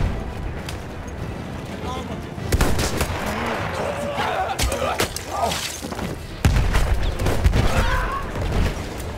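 Battlefield 1 combat plays out loud and close, with rapid bursts of gunfire, heavy thuds and explosive cracks that come in dense clusters. Voices sound partly underneath the shooting.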